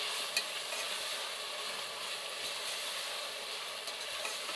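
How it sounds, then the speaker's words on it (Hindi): Fennel and crushed green chillies stirred in a hot pan for tea-style biryani, a soft continuous sizzle with faint scraping and a few small clicks, fairly quiet and with no voices. "अब इन सारी चीज़ों को अच्छे से हम मिक्स करेंगे।"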